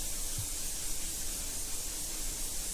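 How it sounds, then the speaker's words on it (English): An airbrush lays light coats of Sparkalescent Mango paint over a burnt orange base during car painting, giving a faint, steady hiss that runs unbroken from start to finish. "I'm now applying Sparkalescent Mango over the top of the burnt orange, just 2 or 3 light coats"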